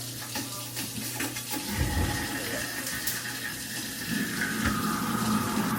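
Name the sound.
hot water running from kitchen sink tap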